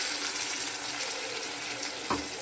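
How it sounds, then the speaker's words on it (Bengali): Water poured into a hot pan of sizzling fish curry with potato and eggplant, a steady hissing sizzle with a brief splash near the end. "এবার আমি জল ঢেলে দিচ্ছি।"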